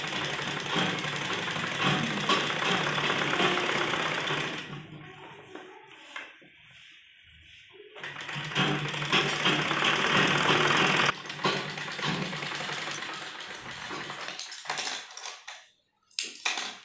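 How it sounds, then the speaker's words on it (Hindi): A sewing machine stitches a baby frock, its motor running in a steady whirring stretch, pausing for a couple of seconds midway, then running again with short stops near the end. "और उसके बाद यहाँ हम एक सिलाई लगाएंगे।"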